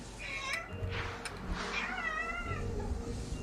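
A cat in The Unfinished Swan video game meows repeatedly, a few rising and wavering calls over about three seconds, fairly close and clear over a soft steady background, with no talking.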